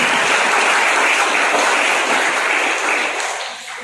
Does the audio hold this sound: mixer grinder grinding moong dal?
no